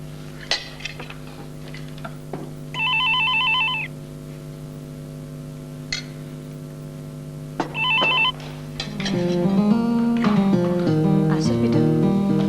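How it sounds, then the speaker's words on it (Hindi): A telephone rings twice in a domestic drama scene, two bursts of steady electronic trilling separated by a pause, set against a sustained background music bed that swells toward the end. "अरे देखो जरा, फोन आया।"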